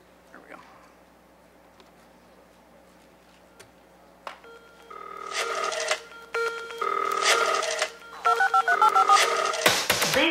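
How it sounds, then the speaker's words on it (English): A telephone keypad sends a rapid series of DTMF tones while a voicemail password is dialed, short steady beeps in quick succession after a quieter stretch with a few clicks. "Please dial your password and press pound."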